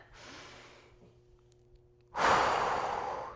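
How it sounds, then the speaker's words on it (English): A faint breath comes first, then a loud, long, deep inhale taken during an at-home full-body dumbbell workout, close and breathy, lasting over a second with no talking. "Take a big inhale."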